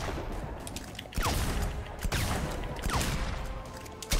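Sharp gunshots ring out during a Mortal Kombat 11 fight, several loud cracks spaced roughly a second apart over a constant busy game background.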